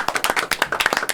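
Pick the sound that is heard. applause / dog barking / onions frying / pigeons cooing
applause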